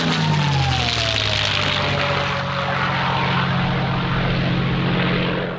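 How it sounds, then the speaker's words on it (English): A North American P-51 Mustang, the Second World War fighter, drones past with a loud, steady propeller engine roar and a gently falling pitch that settles into an even hum. "P-51 Mustang."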